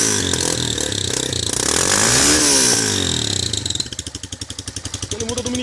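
A Yamaha Fazer 150 motorcycle fitted with a Roncar ML Competition exhaust revs hard and loud up close. The engine rises and falls, then drops into a fast, choppy, popping idle, with no talk.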